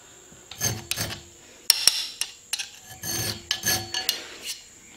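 Rough, rasping strokes of a chainsaw file scraping hard metal, several short bursts in an irregular rhythm, close by with no talking.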